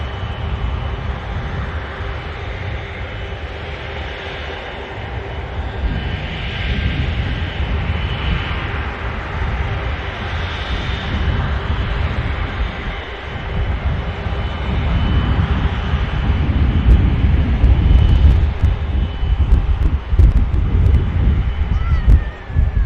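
A Loganair airliner comes in to land at Inverness airport, its engine roar swelling gradually from a distant rumble to a louder, nearer drone, with wind buffeting the microphone throughout.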